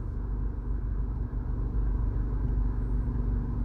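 Busy road traffic while driving out of Kingston, Jamaica, forms a continuous low rumble of passing cars and heavier vehicles. The roar is steady and close, with no talking.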